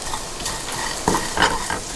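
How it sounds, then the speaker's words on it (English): Garlic and shrimp sizzle steadily in a hot pan while a utensil stirs them, scraping and clinking against the metal in a few distinct strokes over the constant frying hiss. "Now we're going to stir the garlic and the shrimp together."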